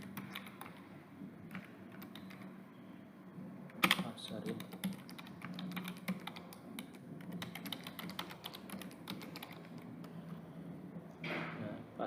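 Keys clatter in a steady run on a computer keyboard while a login is entered, soft clicks continuing for several seconds at moderate distance over low room hum, with a sharper tap burst partway through.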